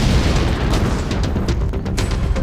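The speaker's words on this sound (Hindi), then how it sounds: "जैसे ही धमाका हुआ, अफरा तफरी मच गई" A loud, dense blast beside a parked car and motorbike in Bengal, a roar with rumbling and crackling bursts that fills the whole clip without letting up.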